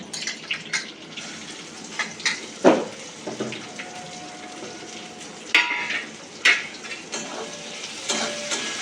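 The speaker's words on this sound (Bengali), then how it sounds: "এবার আমি এই পেঁয়াজগুলোকে দিয়ে দিচ্ছি।" Onions frying in a pan for egg kosa, a steady close sizzle with intermittent scrapes and clinks of a spatula stirring, no talking.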